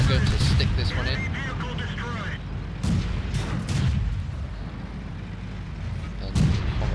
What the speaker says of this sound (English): Someone is firing HE to only do 10 damage.